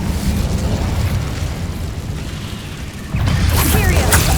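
Incendio fire spell cast in the video game Hogwarts Legacy, a loud continuous rushing blast of flame over game ambience that swells into a brighter crackling burst near the end.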